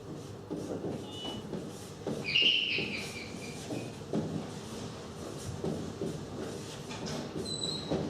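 A steam-era train pulls into a station in an early Lumière brothers film, a rumbling roll of wheels and carriages with a brief high squeal, steady and moderately close with no talk.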